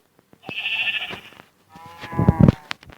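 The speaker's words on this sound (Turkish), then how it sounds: "Şimdi buradan tosun bir tane koyun seçelim." Two Minecraft sheep bleats, one long wavering cry followed by a shorter, rougher one, fairly close with a synthetic game-like quality and no talking.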